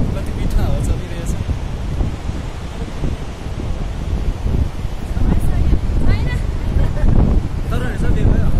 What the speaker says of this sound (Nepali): कति मिठो हावा चलिरहेछ।